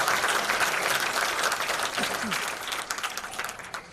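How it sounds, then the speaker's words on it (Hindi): Crowd at a political rally in Jaipur applauding loudly, dense continuous clapping from start to finish that gradually tapers, with a voice over the PA faintly underneath. "जोरदार तालियों के साथ इस जयपुर की नगरी में शानदार स्वागत और अभिनंदन करता हूं"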